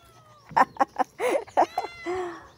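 A gamecock kept for gaff fighting gives a run of loud, close clucks in quick separate bursts, ending in a longer drawn-out cluck.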